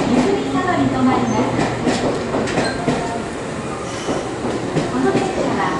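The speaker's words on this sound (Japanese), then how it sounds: "ただいま到着の電車は特急車内南大線でございます。" A Nankai Line Southern limited express train rolls into Ozaki Station in Osaka with rumbling wheels, rhythmic clatter and faint squeals, while a Japanese station announcement plays over the noise.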